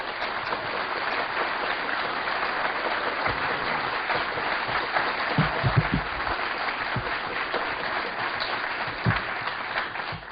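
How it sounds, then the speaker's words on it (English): Sustained audience applause fills the room for about ten seconds at a steady, fairly loud level, dense clapping with a few sharper claps standing out, welcoming two guest speakers onto a stage. "if you will please give a warm round of applause to Mark Phillips and Cathy O'Brien"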